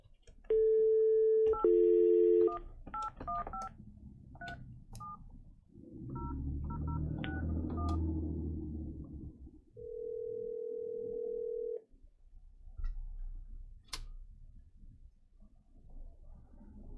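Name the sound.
telephone dialing for call-in public comments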